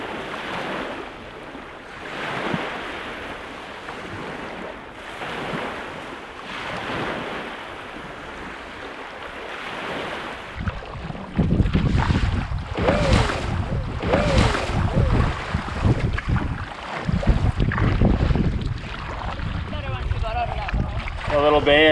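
Wind and rolling waves on a lake during a canoe expedition, a steady rush that swells louder partway through with splashing and gusts across the microphone, with some talking over it.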